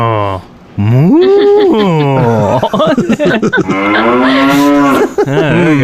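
Cows in Minecraft moo in long, drawn-out, loud calls, a few overlapping lowing sounds up close, with faint talk at the start.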